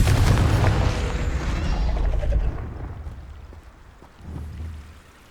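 A Confringo explosion spell in the Hogwarts Legacy video game sets off a loud, deep boom that rolls off into a fading rumble, followed by a smaller thud near the end.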